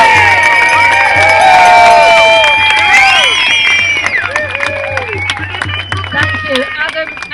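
A crowd at an outdoor London street march against trophy hunting cheers loudly, with whoops, high shouts and whistles that swell and then thin out toward the end.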